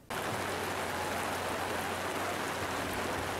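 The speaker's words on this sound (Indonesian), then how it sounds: "Di bawah guyuran hujan deras" Heavy rain pours steadily in Sutojayan, Blitar regency, East Java, a dense, even hiss that starts abruptly and holds loud and constant with no voices.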